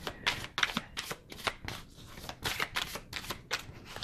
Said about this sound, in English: It shuffles beautifully.